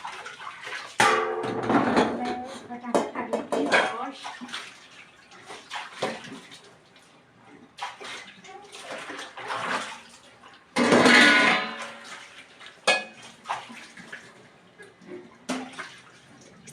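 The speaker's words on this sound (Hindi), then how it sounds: "मैं काफ़ी ज़्यादा घसती हूँ बर्तनों को, बहुत ज़्यादा अच्छे से घसती हूँ। फिर वॉश करती हूँ मैं" Utensils being scrubbed hard and rinsed by hand at a tap in a government quarters home with no sink, with running water splashing in bursts, scraping and clinking close by, and no talk.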